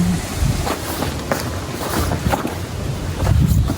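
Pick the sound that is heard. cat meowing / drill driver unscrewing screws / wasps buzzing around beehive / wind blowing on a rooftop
wind blowing on a rooftop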